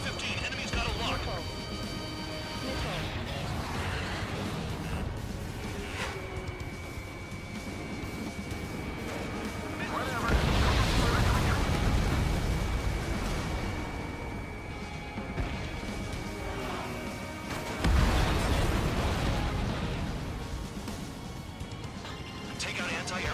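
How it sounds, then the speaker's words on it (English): Missile launch and explosions in Ace Combat 7 as fighter jets engage anti-air targets: two heavy booming blasts stand out over a constant engine roar, with radio chatter running throughout. "Vehicle down. Missile launched."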